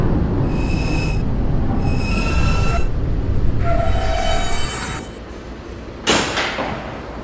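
An R160B Alstom subway train in Roblox runs along the track, with a steady rumble and several drawn-out metallic wheel squeals, a low tonal whine, then a sharp burst of noise near the end.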